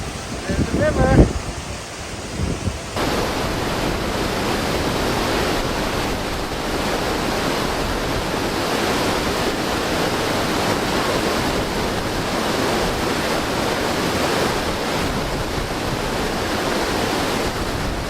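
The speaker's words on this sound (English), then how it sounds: "I hear the water gushing down." Bridalveil Fall in Yosemite National Park, water gushing down in a dense, continuous roar heard close by after a brief opening burst of handling noise.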